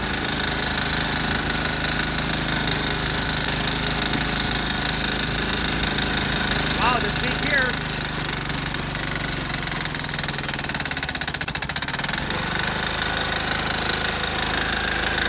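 A Sears Suburban 6HP diesel tractor engine chugs steadily and loudly while working through heavy snow in second gear, high range, a continuous close knocking drone with no break.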